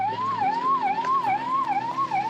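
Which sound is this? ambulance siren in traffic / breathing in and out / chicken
ambulance siren in traffic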